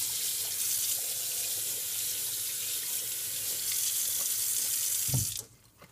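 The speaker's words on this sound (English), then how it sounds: "Now just wash it off with the hot water again." Hot water runs steadily from a tap as soccer cleats are rinsed under it, a constant close splashing rush that cuts off abruptly near the end, leaving quiet.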